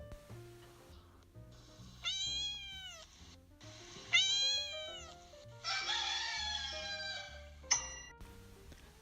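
Cartoon cats meow in three drawn-out, wavering calls, fairly close and clear, set over soft background music with quieter gaps between them.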